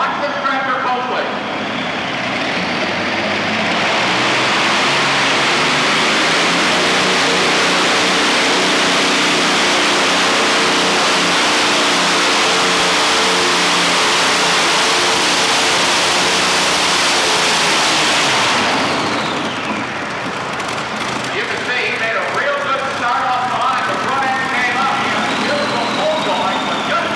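A modified tractor at a truck and tractor pull roars as its engine is wound up to about 5,000 RPM, a loud, sustained, broadband howl lasting most of the run before dropping away, with an announcer talking over it.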